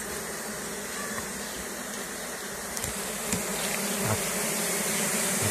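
Honey bees buzz steadily at an apiary where hives are opened to check the brood, a dense close swarm drone filling the whole stretch with no talking.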